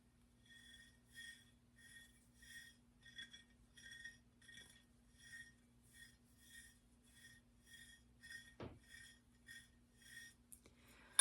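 Clear cut-glass cranberry sausage dish handled gently, giving a steady run of soft, close glassy clinks and rubs over a faint hum, with one sharper knock near the end.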